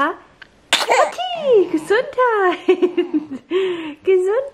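A baby sneezes amid soft cooing and giggly baby vocalizations at close range, with several short bursts and a few brief sharp noises over about four seconds while someone talks in German nearby.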